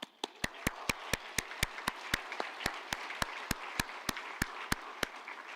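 Applause at a graduation ceremony, heard as a series of sharp, evenly spaced claps, fairly faint and sparse, as if from a single pair of hands or very few people.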